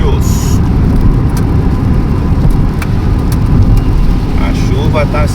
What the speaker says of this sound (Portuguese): A chuva tá assim, dá uma trégua, volta.